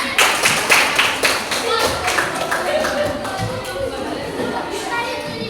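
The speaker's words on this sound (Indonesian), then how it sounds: "Tepuk tangannya." Children in a classroom clap their hands after a head-shoulders singing game, starting with loud, brisk, uneven claps that thin out and fade, while kids chatter and an adult voice talks over them.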